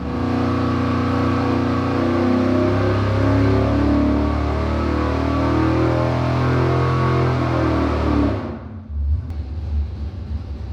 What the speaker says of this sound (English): So now we're gonna get ready to start doing some short pulls, kind of checking on the carburetor.